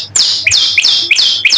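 Long-tailed shrike (cendet) singing in a series of loud, sharp, high descending chirps, each followed by a shorter lower note, repeating in a steady rhythm about three times per second, close and clear with no talk.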